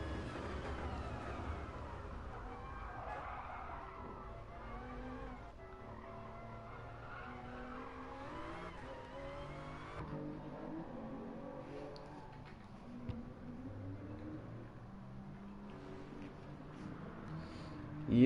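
A Toyota Supra race car in an online league racing video game, its engine droning and rising through gear changes on a long lap, with tire squeal and skidding along the way, steady and continuous without talk.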